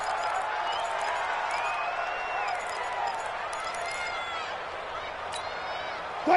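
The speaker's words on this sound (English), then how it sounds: "Listen to this crowd now." A large crowd in a PS4 football video game roars steadily throughout during a 2-point conversion, a continuous wash of cheering and shouting with a broadcast-like quality, sustained and loud.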